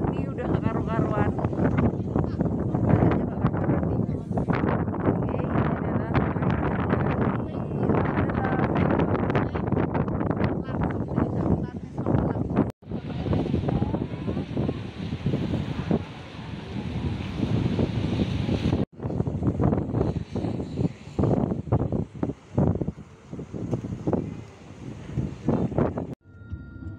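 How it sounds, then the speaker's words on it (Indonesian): Strong wind buffets the microphone in a steady roar at a roadside stop in Banyuwangi during a road trip, with people talking over it throughout. "menikmati angin yang cukup kencang"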